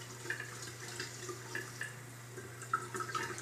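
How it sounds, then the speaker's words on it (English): Water is squeezed out of a soaking wet cloth during a wet shave routine, soft splashes and drips trickling into a sink in small bursts over a low steady hum, nearby and fairly quiet. "So I get it soaking wet, and I just squeeze out the water."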